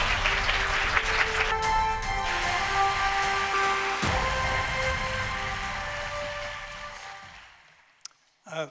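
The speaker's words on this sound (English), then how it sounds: "Please give a great round of applause as His Excellency comes up." Applause from an audience at a lecture on peaceful Korean unification as a dignitary comes up to speak, a dense steady clapping that holds for about seven seconds and then fades out to near silence.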